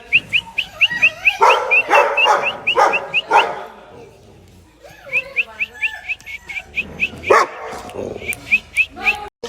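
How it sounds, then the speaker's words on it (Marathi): A dog barks nearby during an outdoor meal stop, giving rapid runs of short, sharp yips and barks in two bursts. People talk in between. "इथे पण एक डॉग आहे."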